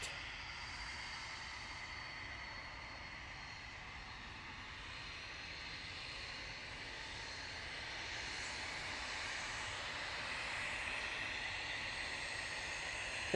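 An easyJet aircraft lands on runway 23 left at Manchester Airport, heard as a faint, distant engine whine and rush that swells gradually and steadily.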